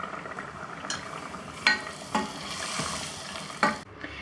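Steady sizzling and crackling of hot oil, with a few sharp bursts as tempering is added to ash gourd kootu, close by and moderately loud.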